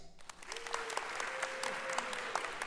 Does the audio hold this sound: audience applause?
yes